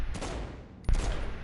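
Pistol fire in the video game Saints Row: Gat out of Hell: two sharp, loud bursts of shots about a second apart, with an echoing tail and no speech.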